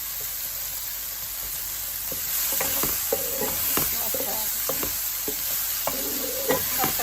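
Chopped tomatoes sizzle in hot frying oil while cooking fish and rice, a steady hiss broken by irregular stirring knocks and scrapes, close and fairly loud, with no talking.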